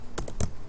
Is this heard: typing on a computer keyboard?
yes